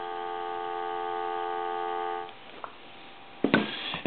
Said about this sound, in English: Give you some dial tone here.